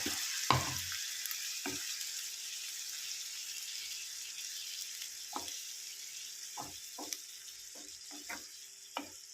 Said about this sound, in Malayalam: ഇതിലേക്ക് കുറച്ച് ചൂടുവെള്ളം ഒഴിച്ച് നമുക്ക് അല്പം കറിയാക്കി എടുക്കാം